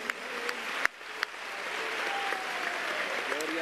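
Church congregation applauding during an evening service, a continuous wash of clapping with a few sharper claps standing out early, voices mixed in beneath the sound.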